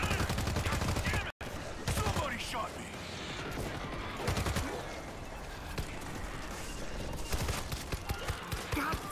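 Gunfire in the co-op shooter game World War Z: dense, continuous rattling bursts and rapid shots from several guns, with one short dropout and a voice talking underneath.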